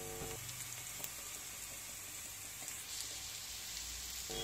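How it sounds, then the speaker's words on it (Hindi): Green chilies frying in a pan for Indori poha, a steady close sizzle that holds evenly throughout with no talk over it. "हरी मिर्ची को अच्छी तरह से भून लेंगे"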